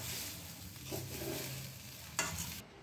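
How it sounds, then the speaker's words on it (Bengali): A spoon stirs a prawn and soya kofta mixture in a kadai, giving soft scraping strokes over a faint sizzle, quiet and close, with a sharper clink near the end. "এটা ভালোভাবে মিশিয়ে নিয়ে আমি এই মিশ্রণটা কড়াই থেকে প্লেটের মধ্যে ঢেলে নেব"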